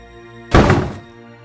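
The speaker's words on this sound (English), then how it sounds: "The kitchen falls silent as a heavy thud sounds from upstairs." A single heavy, muffled thud lands abruptly and fades within half a second, surrounded by quiet.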